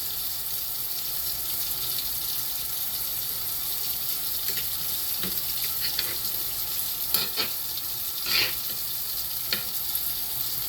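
Liquid is poured over potatoes in a pan while cooking, giving a soft continuous hiss and trickle with a few faint clinks and splashes, fairly quiet and without speech.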